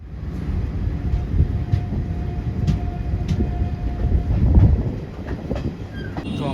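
A special passenger train running from Kolkata toward New Jalpaiguri rumbles loudly and steadily from inside a carriage, with rhythmic wheel clatter, faint metallic squeaks and a thin whine over the low roar.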